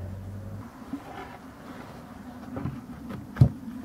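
A small colony of black bees gives off a faint, steady low buzz at a distance, with a few brief louder knocks and rustles near the end.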